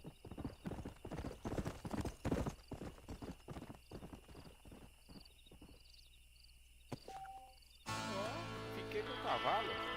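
Horse hooves clip-clop in rapid rhythmic beats in an open-world western game, a whinny mixed in, then the steps fade and a louder ambient wash takes over near the end.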